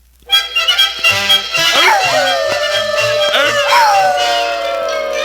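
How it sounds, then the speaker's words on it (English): Several dogs at a dog show howl, yip and bark together in a loud, overlapping chorus, with drawn-out rising and falling howls over repeated short barks that carry on without a break. "Well, look at those 4 watchdogs over there. Wonder what they're howling about."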